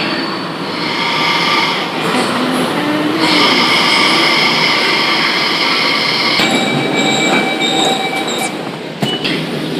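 Delhi Metro train running on the way to Red Fort, a loud continuous rumble of wheels on rail with a steady high whine and squeal, the carriage noise shifting in tone partway through and carrying on without talk.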